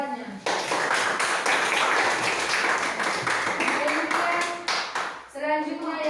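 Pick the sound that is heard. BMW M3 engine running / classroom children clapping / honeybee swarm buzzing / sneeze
classroom children clapping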